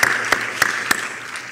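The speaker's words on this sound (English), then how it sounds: "You deserve a round of applause." A conference audience at a science week opening session starts applauding, with a few sharp claps over a hissy room bed across a brief moment.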